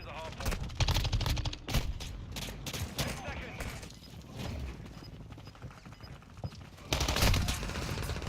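Rapid gunfire from a weapon in Modern Warfare II on the Shipment map, bursts of shots rattling in quick succession with game noise around them, while a player talks over the action.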